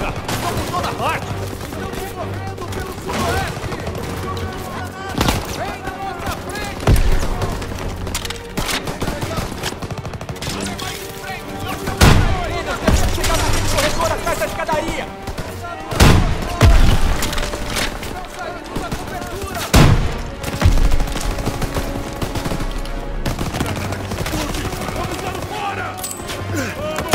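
Machine gun fire and grenade blasts in Call of Duty WWII, rapid bursts of automatic fire broken by sharp booms, with shouting voices in the mix throughout.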